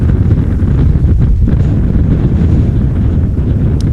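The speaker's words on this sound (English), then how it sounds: "the laptop tent shaking left and right because of the wind" Steady buffeting wind roars across a microphone outdoors at an airport, shaking a laptop tent without a break, loud and continuous with no talk.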